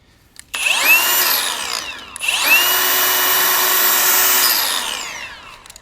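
A DCA cordless angle grinder starts up with a rising whine, winds down, then starts again and runs at a steady high pitch before coasting down, loud and close.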